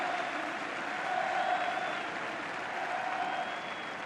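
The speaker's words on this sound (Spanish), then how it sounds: "Recibe la ovación del público" Steady, sustained applause from a football stadium crowd as a substituted Real Betis player walks off during a heavy defeat at Eibar, a broad even wash of clapping heard from a distance with no talk over it.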